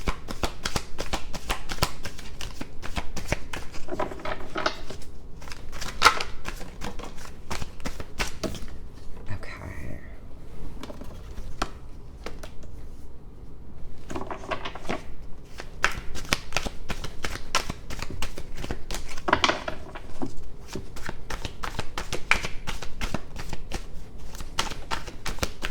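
Tarot cards being shuffled by hand in long stretches of rapid riffling and flicking, close and crisp, with brief pauses and someone speaking softly at times.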